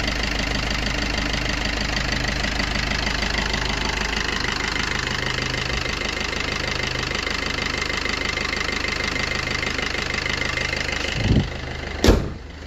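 A 2019 Maruti Swift VDI AMT with the Fiat diesel engine idles with a steady, loud, rhythmic diesel clatter heard up close under the open hood, ending with two sharp knocks.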